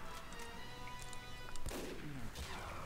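A sharp sniper rifle shot cracks out in a Team Fortress 2 match, cutting through a busy game backdrop of humming tones and scattered distant gunfire.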